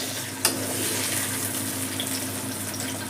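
Fried eggplants dropped into a frying pan, with a soft thump at the start followed by a steady, even sizzle in hot oil and no talk.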